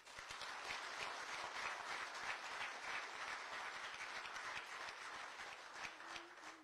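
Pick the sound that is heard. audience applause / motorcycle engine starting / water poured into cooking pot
audience applause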